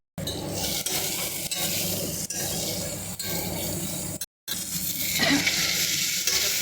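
Tomatoes sauté in a pan with turmeric, coriander and curry leaves, giving a loud continuous sizzle. Scraping stirs recur every second or so, with a brief gap in the sound partway through.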